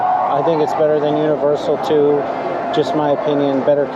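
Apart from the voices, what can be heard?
No everyday noises stand out.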